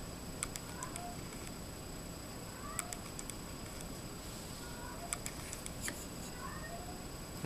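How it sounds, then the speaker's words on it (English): A cat meows faintly several times at a distance, short rising calls spread across steady background hiss and light clicks. "Now I can hear my cat meowing."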